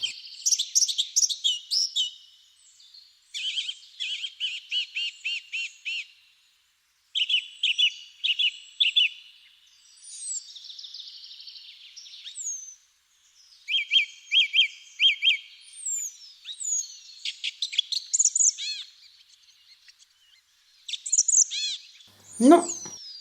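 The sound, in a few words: birds chirping and singing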